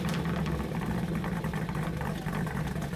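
A 1969 Chevrolet Camaro ZL1 muscle car V8 engine idles steadily, a deep rumbling drone held at even loudness throughout.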